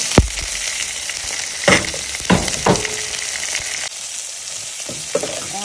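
Chopped onions and green chillies sizzle steadily in a hot pan, loud and close, with a few stirring scrapes and light clinks over the constant frying hiss.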